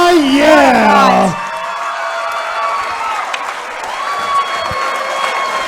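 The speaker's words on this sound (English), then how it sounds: "The crowd is going insane." A large crowd at a fight roars and cheers loudly, with a voice shouting over the noise at first, then a steady wash of crowd noise continues.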